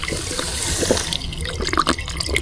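Drinking water running from an outdoor tap outside a stone-built house, a steady close splashing stream with small drips and gurgles, no voices.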